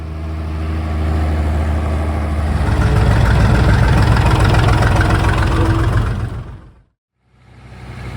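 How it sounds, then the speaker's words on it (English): A 1960s 56-horsepower Schlüter S650 tractor works with a single-row Mengele maize forage harvester, its engine droning loud and steady, then cutting out briefly before rumbling back. "This 1960s 56 horsepower Schlüter S650 was one of the older tractors present."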